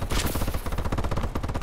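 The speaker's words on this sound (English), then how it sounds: "this weapon is good to keep for its super rapid fire" Super rapid XMG fire in Call of Duty: Advanced Warfare, a tight, loud, continuous rattle of evenly spaced shots for under two seconds.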